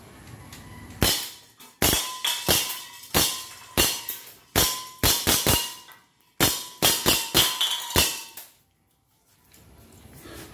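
An airsoft Desert Eagle in gold fires a quick run of sharp, close cracks in two strings of shots separated by a short pause, each shot ringing briefly.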